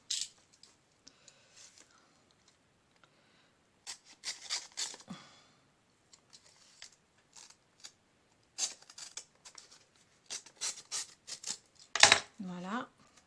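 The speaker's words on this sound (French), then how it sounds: "je vais ouvrir son enveloppe" A mail envelope is opened close up with sparse paper rustles, tearing and crinkling bursts, then a sharper crisp rip near the end, amid quiet pauses.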